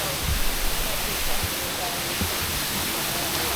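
The waterfall at Emerald Pool in Dominica's rainforest gives off a dense, steady rushing roar close by, with a faint voice barely audible under the water noise.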